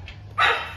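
A single short dog bark, close and fairly loud, cutting in after a moment of quiet background.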